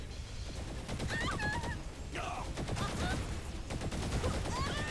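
Assault rifle fire in the video game Saints Row The Third, dense rapid bursts of shots running continuously with game noise, while a player talks over it.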